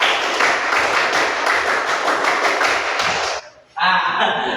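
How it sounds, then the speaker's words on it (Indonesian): A group of students claps together in the rhythmic Pramuka scout clap in a classroom, loud, dense and steady for about three seconds before a brief stop and then a fresh burst. "Coba tepuk pramuka."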